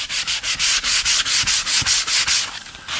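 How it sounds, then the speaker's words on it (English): Folded sandpaper rubbed by hand along the inside of a routed wood edge, a steady rhythmic back-and-forth scratching of about a dozen quick strokes, close and clear, without any talk. "sand the inside of my route there"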